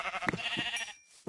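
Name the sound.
sheep bleating in a video game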